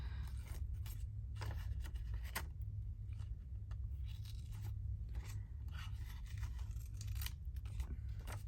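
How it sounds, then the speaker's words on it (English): Scissors snip paper ephemera with a creamy edge, trimming wobbly cut pieces in a craft session; a run of quick, close, dry cutting and scraping sounds repeats steadily over a low background hum, with no talking. "you might have to just do a little bit of snipping to make them a bit less wobbly"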